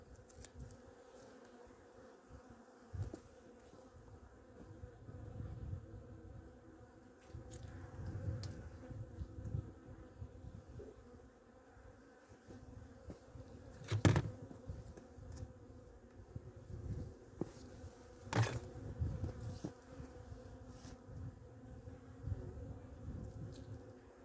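Honeybees buzzing around an opened hive during a winter check of stores and queen, a low steady hum with occasional louder close passes, faint and continuous with no talk.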